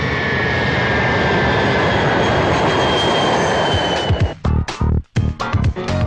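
Airplane flying as a sound effect in a comedy film: a steady, loud, broad engine roar runs unbroken for several seconds, then cuts in and out in abrupt bursts near the end.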